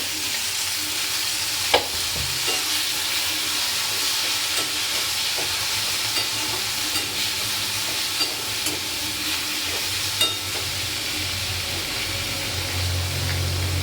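Tomatoes frying with browned onions in a pan, a steady sizzle and hiss under repeated light scrapes and clicks of stirring.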